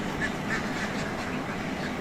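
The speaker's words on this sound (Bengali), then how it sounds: "যে হাঁসগুলো বেরোচ্ছে এই হাঁসগুলো একদম রানিং ডিম পারা হাঁস" Egg-laying ducks leaving a shed quack as a dense, continuous flock, a close chorus of overlapping nasal calls.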